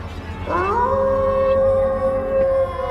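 A single drawn-out, wavering jackal howl rises and holds a long mournful tone, heard alone in the distance over a low steady background hum at night, with crickets.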